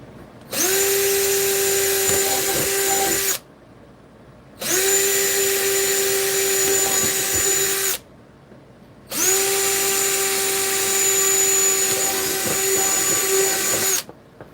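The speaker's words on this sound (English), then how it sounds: "so that drilling should be done" Three long bursts of a power drill whining at a steady pitch during Necromunda tabletop terrain building, each run lasting about three seconds and separated by short pauses, loud and close.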